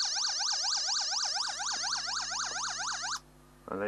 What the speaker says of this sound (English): Working siren sound generator